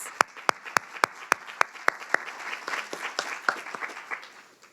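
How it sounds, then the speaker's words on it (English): Closing-panel audience at a summit breaks into applause: a few sharp, evenly spaced claps up front, then a fuller, scattered round of clapping from the room, moderately loud and brief. "So please give yourselves a round of applause."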